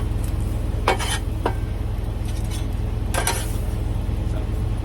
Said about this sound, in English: we want to scrape that flour off the Blackstone, or off the griddle surface